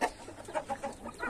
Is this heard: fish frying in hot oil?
no